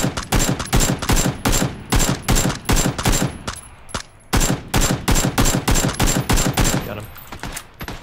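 Rapid automatic gunfire in PUBG, loud close bursts of repeated shots firing almost continuously with a brief pause midway.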